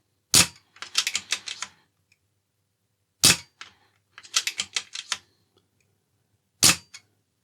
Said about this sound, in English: We will give you a few dry fires though